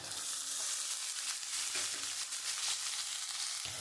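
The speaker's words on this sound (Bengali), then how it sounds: "আমি পেঁয়াজটা একটু হালকা করে ভেজে নিয়েছি।" Onion lightly frying in hot oil in a pan with ginger, garlic, green chilies and dried red chilies, a steady dense sizzle that runs loud and unbroken throughout, with no voices.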